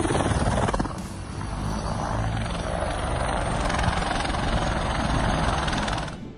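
An aircraft coming in to land makes a loud, steady engine and rotor-like roar that stays constant for several seconds and then cuts off abruptly near the end.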